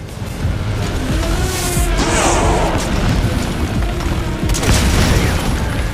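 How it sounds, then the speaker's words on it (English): Grenade launcher rounds explode in the video game Metal Gear Solid V, deep booming blasts layered over a loud, continuous rumble with crackling debris. "now, it's time for the grenade launcher"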